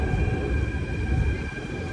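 A crowded EMU metro carriage rumbles along the track, a continuous loud low-pitched roar with steady rattling and a faint high whine throughout.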